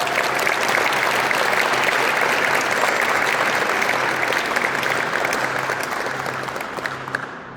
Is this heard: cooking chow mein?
no